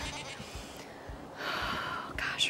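A goat on a cold farm gives a couple of short bleats close by, with faint breathy sounds and outdoor noise between them.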